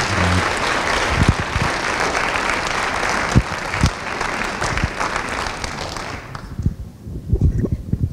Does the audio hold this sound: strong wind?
no